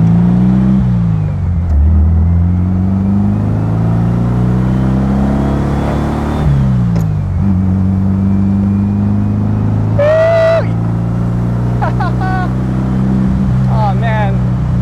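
A replica 1957 Porsche 356 Speedster drives fast, its engine note droning steadily and shifting pitch as it accelerates, with wind rush and short chirping sounds later on.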